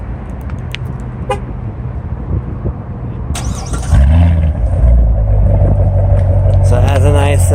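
A 2015 Corvette convertible with its stock mufflers still fitted idles with a steady low rumble that swells louder partway through, with a horn-like toot and people talking over it.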